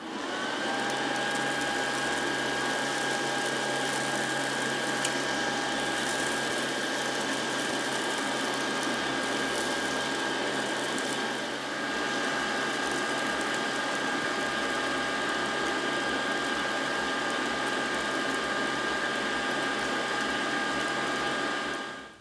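A Casdon toy Numatic Henry vacuum cleaner runs with just the tube attached, giving a continuous buzzing motor whine with faint rattling that holds steady, dips briefly midway and stops at the end.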